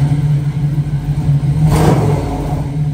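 A 1968 Camaro RS V8 idling at a steady low rumble outdoors, with one brief rev swelling up near the end before it settles back to idle.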